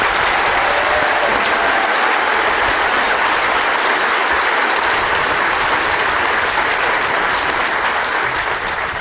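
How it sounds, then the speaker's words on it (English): Loud, sustained applause from a large audience at a military graduation ceremony, honoring a band and its chief warrant officer, a thick continuous wall of clapping lasting about nine seconds with no speech. "could you please join me in a round of applause for the band and Chief Warrant Officer Banks"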